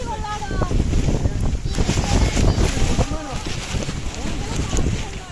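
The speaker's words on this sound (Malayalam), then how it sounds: "അത്ര നല്ല കാറ്റുണ്ട്" Strong monsoon wind gusts at Kakkadampoyil, a steady broadband roar buffeting the microphone throughout, with voices talking underneath.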